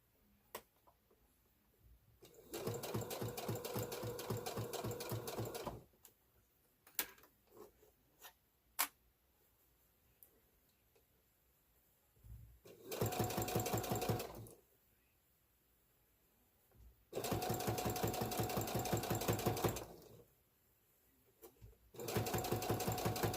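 A sewing machine stitches a 1/4 inch seam on a stand mixer cover in four loud, rapid bursts, with quiet handling clicks in the gaps between runs.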